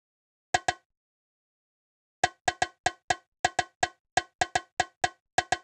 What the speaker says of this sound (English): There's a bongo.